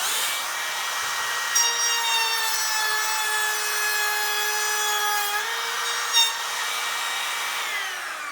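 A Makita cordless router makes a test cut in softwood, its motor whine holding a steady high harmonic tone, dipping slightly under load and then winding down, with no talking.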